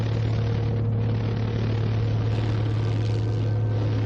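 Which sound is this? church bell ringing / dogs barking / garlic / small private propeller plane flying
small private propeller plane flying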